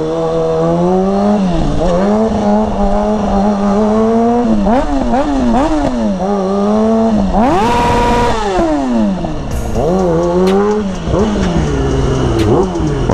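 A Kawasaki 636 sport motorcycle revs hard and climbs through the gears for a wheelie, its loud, near engine note rising and falling in repeated surges with a sharp high-rpm peak midway.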